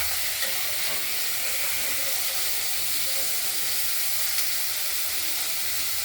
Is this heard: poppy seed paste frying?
yes